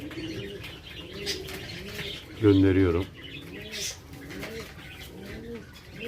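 Homing pigeons coo repeatedly in soft rolling phrases nearby, with a brief louder burst of noise midway and a voice speaking briefly.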